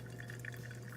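Water poured over coffee grounds trickles and drips softly into a vessel, a quiet, close liquid sound with a low steady hum beneath.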